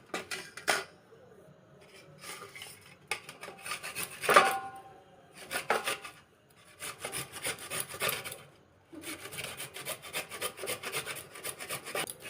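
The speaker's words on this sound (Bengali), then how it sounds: "গাজরটা পুরো ঘষা হয়ে গেছে।" A carrot rubbed against a metal grater in a home kitchen, producing close, raspy scraping strokes in uneven bursts with brief pauses between them.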